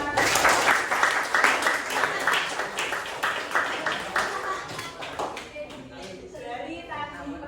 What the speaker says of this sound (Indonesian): Cukup tepuk tangan untuk kita semua.